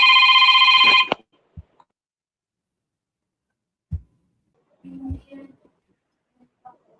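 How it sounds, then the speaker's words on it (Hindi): A telephone rings loudly for about a second with a bright electronic trill, then cuts off, leaving near silence broken by a few faint knocks and murmurs. "एक फोन आ रहा है, मैं फोन अटेंड कर रहा हूँ।"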